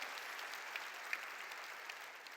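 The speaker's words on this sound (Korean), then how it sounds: "박수로 하나님께 영광 돌려" Faint, steady applause from a church congregation at a Korean New Year blessing revival service, a dense even patter of clapping with no voices on top, heard at a distance for a couple of seconds.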